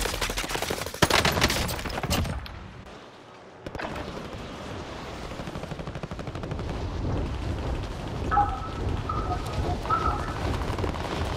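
Gunfire in Call of Duty: Modern Warfare, dense bursts of rifle and machine-gun fire crackling loudly at the start, then a brief lull before more distant shooting, explosions and battlefield rumble resume, with a few short electronic beeps later.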